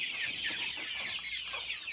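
Free-range country chickens cluck softly and continuously at a moderate distance on a poultry farm, a busy, overlapping chatter of fowl with no voices.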